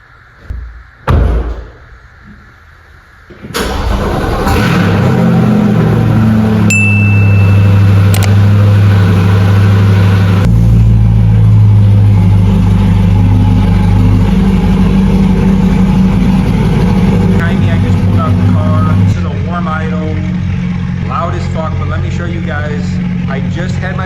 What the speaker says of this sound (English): there's air shooting out between the headers and the cat still